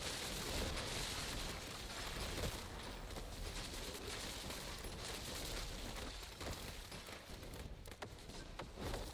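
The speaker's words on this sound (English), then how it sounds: "So many mortar shells." Mortar shells burst repeatedly in the game Raiders, a dense, rumbling barrage of explosions and crackling impacts that continues throughout at moderate distance.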